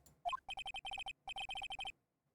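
A cell phone ringtone from the Ace Attorney video game rings in a clean synthetic melody, quick bursts of bright repeated tones in two phrases after a short rising chirp, then stops into silence.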